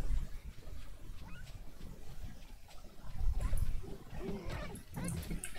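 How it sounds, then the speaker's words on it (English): A dire wolf in the survival game 7 Days To Die gives low, rough growls that swell in the middle, set against a busy bed of rumbling in-game ambience. "Oh, that's a dire wolf."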